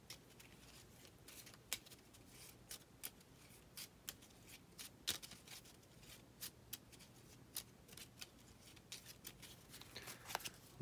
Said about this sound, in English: And then shuffle Gimli's deck here.